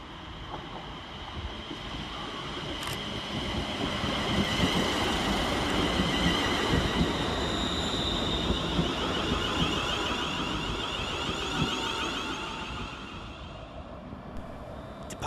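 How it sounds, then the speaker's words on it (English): Scotrail Class 380 electric train, unit 380001 on an Ayr to Glasgow Central service, rolling into Paisley Gilmour Street station with a loud, sustained rumble and rising whine that swells and then eases, with wind buffeting the microphone. "Coming up on the near side is 380001, working the 1255 Scotrail service from Ayr to Glasgow Central."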